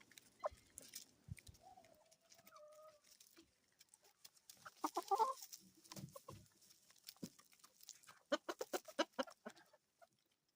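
Backyard chickens cluck and squawk around a freshly cleaned coop on an off-grid homestead, with bursts of rapid clucking and a few drawn-out calls, fairly close but soft, no talking.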